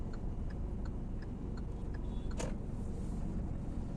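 A car's turn indicator ticks inside the cabin while driving in traffic, with faint, evenly spaced clicks running steadily over a constant low engine and road rumble.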